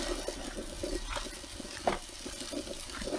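Pork breakfast sausage sizzles steadily on a Blackstone flat-top griddle outdoors, a close, continuous hiss broken by occasional scrapes of a spatula.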